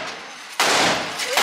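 Two sharp, loud reports from a Glock 30S pistol fired at close range, the second following about a second after the first, each leaving a broad ringing tail.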